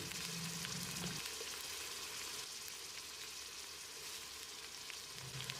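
Continuous crackling sizzle of ginger paste frying in a pan for an Ambur mutton biryani, close and steady throughout with small pops.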